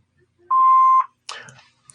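An answering machine gives a single clean, steady electronic beep about half a second long, close and clear, followed right after by a short burst of speech.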